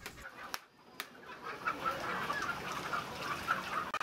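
Chickens cluck at a live-poultry market in Berastagi, Sumatra, Indonesia, soft and somewhat distant under a busy hum of market noise, with a couple of sharp knocks early on.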